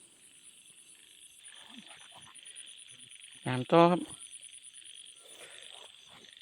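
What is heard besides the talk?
frogs croaking along a stream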